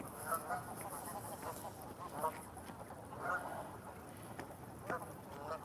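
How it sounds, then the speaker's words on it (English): Egyptian geese honking outdoors at moderate distance, several harsh repeated calls scattered irregularly over a quiet background. "We have some Egyptian geese."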